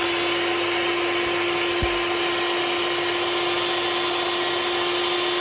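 A mixer grinder grinds dried red chillies with a loud, steady, high whine that runs without a break, used while cooking Indian-style crab soup.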